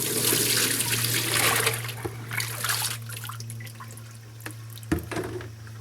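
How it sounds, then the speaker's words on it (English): Water pours and splashes out of a basin after soaking a crocheted shawl, loud at first and then tapering into trickles and a few drips, with a low hum beneath. "We are going to tip the water out."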